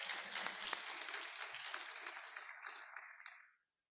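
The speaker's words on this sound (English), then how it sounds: "Let's give them a round of applause before we start." An audience applauds conference panelists at a science–policy session on agri-food systems, a dense, steady wash of clapping that carries on for about three and a half seconds before fading out to near silence.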